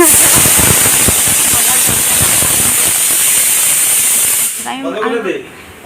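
A pressure cooker cooking mutton gives a loud, steady steam hiss that runs for several seconds before cutting off, followed by a brief voice.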